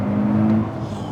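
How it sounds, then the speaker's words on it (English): A 2023 Nissan Z engine revs with a steady, loud tone that holds through the first half, then eases back to an even, sustained drone. "And this new engine, man, this is the best part."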